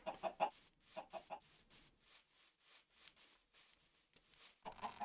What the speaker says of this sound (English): There's chickens right there the whole time.